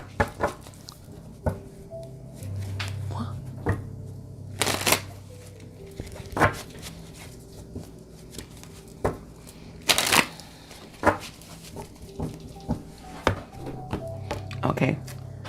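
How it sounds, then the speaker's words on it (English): Oracle cards are shuffled and pulled. Soft riffling runs between sharp card slaps and taps at an irregular rhythm, close by, with a faint low hum underneath. "let's pull some cards on these two, and let's get the messages."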